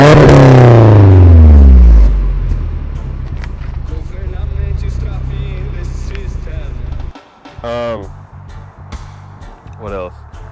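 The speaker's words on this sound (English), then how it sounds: "a throttle gargle." A 1989 Nissan 240SX with a long 3-inch straight pipe exhaust revs hard, its engine pitch sweeping up loudly, then settles into a gargling idle broken by a few short throttle blips, with someone talking over it.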